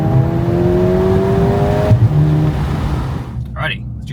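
Mercedes CLA35 AMG with 302 horsepower accelerating hard under launch control, a loud steady engine drone with rising tones and a brief gear shift, heard from inside the car, with a voice speaking near the end.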